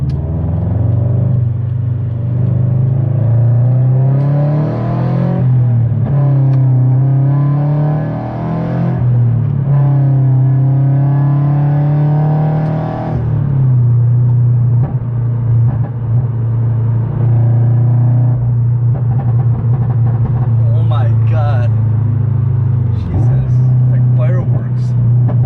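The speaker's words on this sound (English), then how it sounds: "Loudest my car's ever been, but it sounds good." A Subaru BRZ with a new front pipe and over pipe, no catalytic converters and a single resonator, idles and revs loudly with a deep, steady rumble that swells and settles over the whole stretch.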